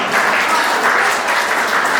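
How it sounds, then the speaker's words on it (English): Steady, full audience applause at a charity event at a cellar, a continuous wash of many hands clapping at close range with no voices rising above it. "Round of applause for Simone"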